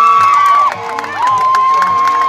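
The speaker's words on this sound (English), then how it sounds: "The Philippines fans cheer Celith for drawing that free kick from Junior." A football crowd of Philippines fans roars and cheers loudly after a foul is won, a dense sustained wall of voices with shouts and whistles through it.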